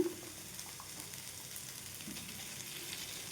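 Black-eyed pea paste going into a pan of simmering gravy, giving a soft, steady sizzle and bubbling throughout with faint stirring, heard quietly and without any talk.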